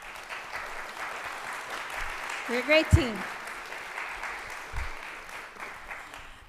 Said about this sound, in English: are they clapping because of that, or because of me actually being able to put an image on the screen?